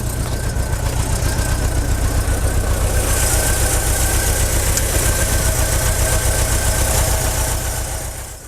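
A VW Westfalia van's freshly rebuilt 2.2-litre engine, enlarged from a 2.1, runs loud and close with a steady, throbbing idle rhythm that holds evenly before fading slightly at the end.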